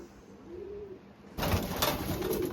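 Racing pigeons coo in a loft, a soft low coo early on followed by a louder, denser stretch of cooing and rustling from several birds close by.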